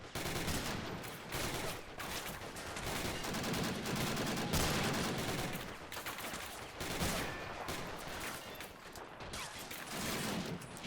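Dense gunfire with rapid machine-gun bursts and bullet impacts rattles continuously in a World War II infantry battle at Foy in the game Men of War Assault Squad, loud and unbroken with brief lulls.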